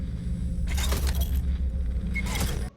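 Two short bursts of scuffing, clattering noise over a low steady hum, standard footsteps in the game FNAF AR, separated by a brief pause.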